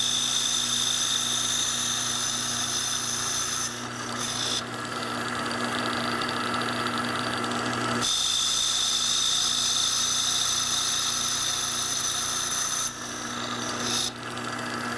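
A Q Lathe Model B turns down a ferrule, a steady mechanical whir with a constant motor hum and a scraping cut, briefly lightening around four and thirteen seconds before resuming, with no talking.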